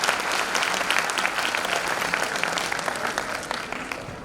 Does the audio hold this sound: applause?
yes